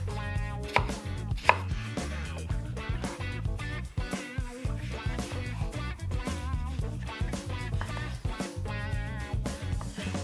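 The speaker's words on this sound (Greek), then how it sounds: "Θα ψιλοκόψω την ντομάτα με τον τρόπο που θα σας δείξω." A knife finely chops a tomato on a cutting board with rapid, steady, close taps, over soft background music.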